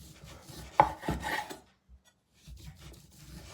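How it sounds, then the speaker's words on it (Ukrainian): Knife slicing ham into very thin pieces, a few soft rasping strokes with a sharper scrape, then a short pause before quieter rubbing resumes, close and faint. "Важко різати сидячи. Але стоячи погано видно мене. Так, шинка і нарізаємо її дуже тоненькими шматочками"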